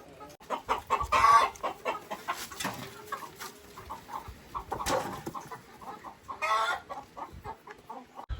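Chickens cluck and murmur nearby, with a few sharper squawks rising above a soft outdoor background; no one speaks.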